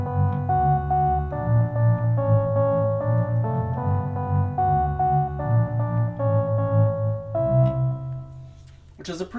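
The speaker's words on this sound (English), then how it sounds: "So I can actually get the bass sound with that lead" A microKORG synthesizer plays a layered bass and lead timbre together, sustained harmonic synth notes in a steady melodic line with a brief noisy burst at the very end, heard alone without talk.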